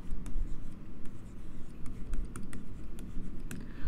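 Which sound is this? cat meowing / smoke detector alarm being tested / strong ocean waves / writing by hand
writing by hand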